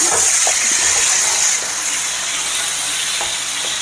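Onions fry in a generous amount of oil, browning for a chole recipe, with a loud, steady, close hiss and sizzle and a few stirring scrapes under it.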